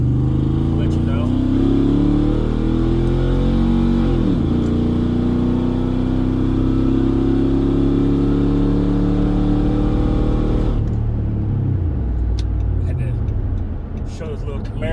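A Chevrolet Camaro drives along with a loud, steady engine drone, its pitch climbing as it accelerates, then dropping near the end.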